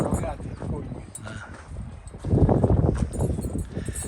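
Well-kept horses clip-clop in a Carpathian forest village, hooves thudding in an uneven rhythm that grows louder halfway through, with people talking over them.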